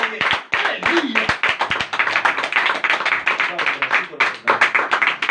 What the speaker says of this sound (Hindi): यीशु ने जरा जोरदार तालियां बजाइए